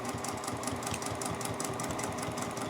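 A sewing machine drives its needle through thick layers of fabric while sewing a multi-zipper pouch, giving a steady, close mechanical hum with rapid rhythmic stitching pulses and no talking.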